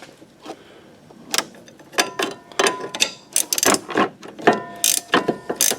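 A hand ratchet works loose a stabilizer end link on a 2007 Pontiac G6, making a series of sharp, close clicking bursts in irregular quick runs, growing denser toward the end, with no voices.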